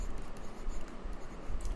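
A pen scratches continuously across paper as notes are written during a chemistry lesson, faint and close, with an uneven scribbling rhythm.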